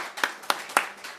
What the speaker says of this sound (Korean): 다 같이 박수.